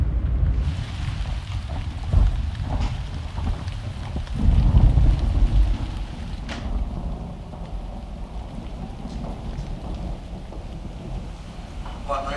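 Heavy rain at night in a town, a dense, steady downpour with a deep rumbling swell, loud and continuous throughout, with faint voices mixed in.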